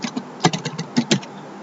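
Irregular key taps on a computer keyboard during a tax lecture, a scattered burst of about ten light clicks, close and moderately loud with no voice over them.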